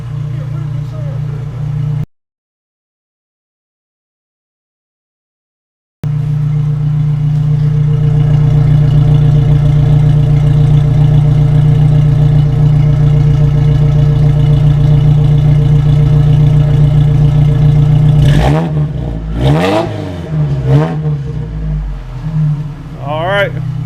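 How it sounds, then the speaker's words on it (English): A Geo Tracker with a Flowmaster exhaust idles with a steady, deep drone close up. The sound cuts out briefly, returns, and then a few louder revs come near the end. "Flowmaster on a Geo Tracker."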